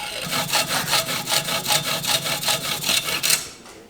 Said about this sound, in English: And again, nice and smooth with a hacksaw.